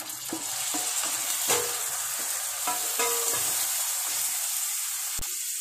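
Onion and tomato fry in a pan for egg ghee roast, giving a continuous close sizzle broken by scattered stirring scrapes and clicks, with no talking.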